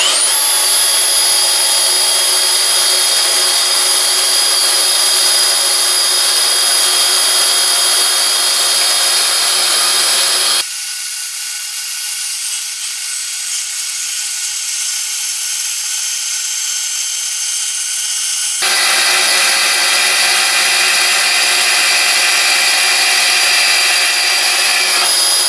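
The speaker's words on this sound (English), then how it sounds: "Now I'm going to go ahead and cut a piece of angle iron." A cordless Milwaukee deep cut bandsaw mounted in a portaband table cuts angle iron with a loud, steady motor whine, its pitch and tone shifting while the blade bites into the metal midway, then returning to the free-running drone.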